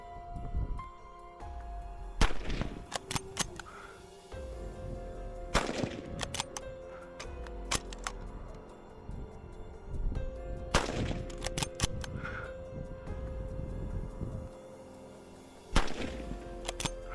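Rifle shots ring out during a feral camel cull in the Australian outback, several sharp cracks spaced irregularly over quiet ambient background, each with a short echoing tail.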